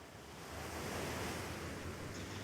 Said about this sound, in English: you're watching the ocean crashing against the rocks, and there's sea spray splashing up